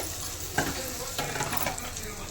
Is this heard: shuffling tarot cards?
no